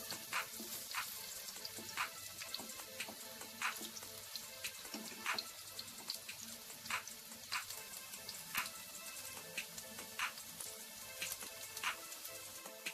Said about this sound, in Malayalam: നന്നായി ഫ്രൈ ചെയ്തെടുക്കും.